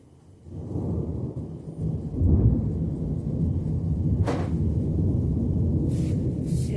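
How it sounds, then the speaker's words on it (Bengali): A low, rolling rumble of thunder builds and lingers steadily, deep and heavy, with a few faint higher noises over it. "দেখো কি জোরে মেঘ ডাকছে।"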